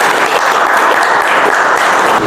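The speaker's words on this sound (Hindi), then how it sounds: "एक जोरदार तालियां उन दोनों के लिए चाहता हूँ" Loud, dense applause from an audience cheering two people who met their target, continuous clapping throughout with no talk.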